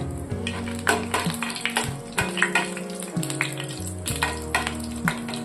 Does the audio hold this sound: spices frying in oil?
yes